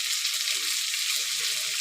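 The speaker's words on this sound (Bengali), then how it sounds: "বেশি ভাজবো না, একটু শক্ত থাকবে।" Vegetables for chili chicken fry in a pan, a steady broadband sizzle throughout with a few soft stirring scrapes, close and continuous with no voices.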